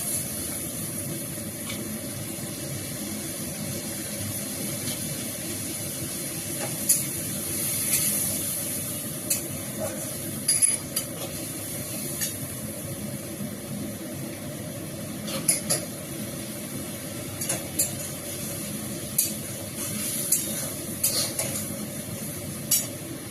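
Spice masala for begun masala frying in a pan, a steady sizzling hiss with occasional clinks and scrapes of stirring, continuous and close with no talk.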